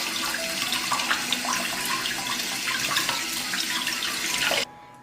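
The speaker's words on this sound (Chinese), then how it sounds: "我们来给它清洗干净，洗的时候可以稍微挤一下" Tap water runs steadily into a sink while raw chicken wings are rinsed and squeezed under it. The rush is close and continuous, with small splashes, and cuts off abruptly near the end.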